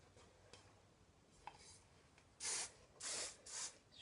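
Hairspray from an aerosol can misted onto teased, backcombed hair, heard as three quiet hissing bursts in close succession after a few faint ticks.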